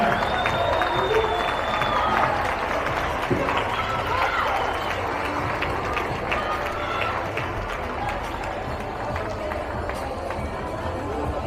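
An indoor audience at a Kars village association's goose night gathering applauds as the association president is welcomed on stage, dense sustained clapping mixed with crowd murmur at an even level throughout.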